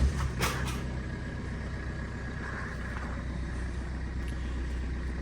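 Toyota Auris engine turning over at close range, then settling into a steady idle with a faint whine above the low hum; no talking.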